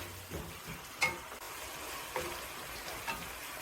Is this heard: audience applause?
no